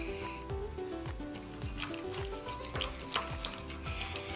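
Homemade three-ingredient slime being stirred and mixed, giving a steady wet, sticky squelching and scraping that runs continuously at close range with no talking.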